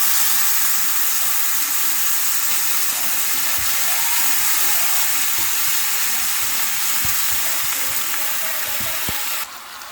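Jjajang sauce sizzles and fries steadily in a pan while being stirred, a loud continuous hiss close by with small scraping touches, lasting throughout without talk.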